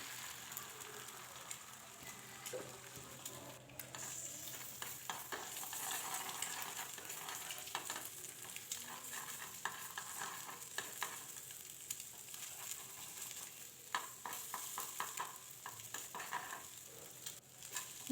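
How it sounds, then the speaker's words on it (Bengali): Egg scrambled and fried in a pan to crumbly bits beside vegetables, a faint continuous sizzle with repeated scraping and stirring strokes of a spatula, steady and close throughout. "ডিমটা একটু ঝুরি ভাজা করে নেব, ডিমের যেরকম ঝুরি হয় ঠিক সেরকম ডিমটা ভাজা করে নেব এক সাইডে দিয়ে।"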